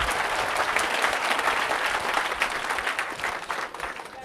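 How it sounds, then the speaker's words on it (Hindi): An audience at a live talk applauds loudly, a dense, steady wash of many hands clapping that tapers slightly toward the end, with no one speaking over it. "बगल वाले के लिए एक बार जोरदार तालियां बजा लीजिए।"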